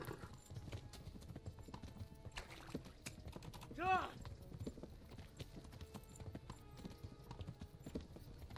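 A horse galloping in the video game Kingdom Come: Deliverance, a quick steady patter of hoofbeats running throughout at moderate level, with a short neigh near the middle and someone talking over it.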